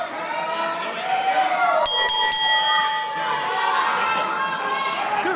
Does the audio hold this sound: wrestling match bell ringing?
yes